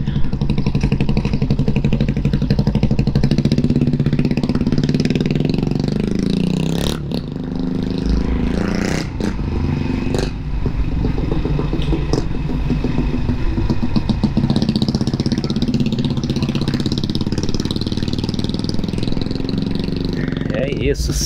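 A motorcycle loaded with bags drones steadily while riding near Santarém, Pará, with a few knocks and scrapes, and someone talks over the engine noise.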